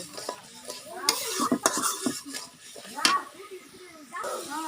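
Spice masala being stirred with a little water in a pan, a spoon scraping and clinking against the metal amid a soft sizzle, close by, with someone talking over it.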